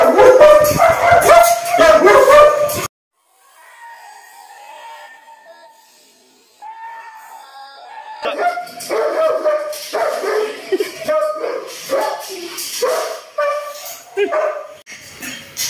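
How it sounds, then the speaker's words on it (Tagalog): Large Belgian Malinois dogs bark loudly and repeatedly nearby, with yips and whimpers between bursts, and people talk throughout. "Nakakatakot yung mga aso niya, sir."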